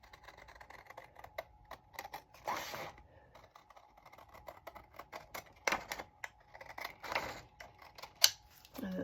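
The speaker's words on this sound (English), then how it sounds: "so I'm just gonna cut them out" Several short, crisp snipping and scraping bursts of fabric scissors cutting out paper film strips, spaced irregularly, close and fairly quiet with no talking.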